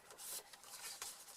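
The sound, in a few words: cutting paper with a guillotine paper trimmer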